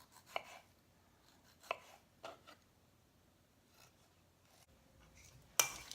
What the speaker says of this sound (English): what we're gonna do is we're just gonna kind of dice these up a little bit